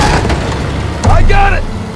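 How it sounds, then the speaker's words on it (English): A grenade detonates with a heavy, muffled boom in the World War II shooter Call of Duty WWII, a short swell rising out of dense battle noise and shouting voices. "Grenade!"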